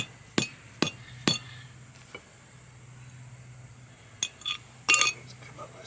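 A hammer taps on retaining wall pavers being leveled against existing concrete outdoors, with three sharp close strikes early, then a pause and a few more quick hits near the end.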